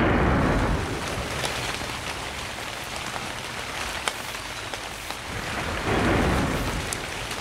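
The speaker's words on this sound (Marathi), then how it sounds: "काय अचानक पाऊस आला ना" Heavy rain falls in a steady hiss, with deep thunder rumbling at the start and again near the end, and scattered sharp drops striking a surface close by.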